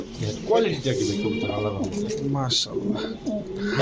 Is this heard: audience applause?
no